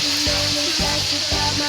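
Fish frying in a pan, a steady close sizzle of hot oil with soft recurring pulses as the pieces cook, no voices over it.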